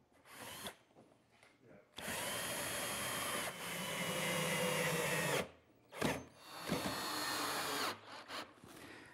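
A power drill drives screws to attach a roller in a woodshop, with one long whining run followed by several short bursts, loud and close.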